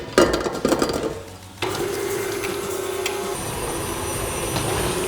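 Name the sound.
stand mixer creaming xylitol and softened butter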